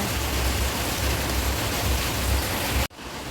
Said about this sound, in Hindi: बारिश इतनी तेज़ हो रही है कुछ भी नहीं दिखाई दे रहा है